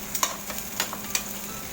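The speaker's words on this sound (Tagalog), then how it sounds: "piprito naman tayo ng tokwa" Tofu frying in oil gives a close, steady sizzle punctuated by a few sharp scraping or stirring clicks, with no talking.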